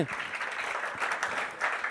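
An audience claps for the set decorators, a brief steady burst of applause filling the room from the outset to the end.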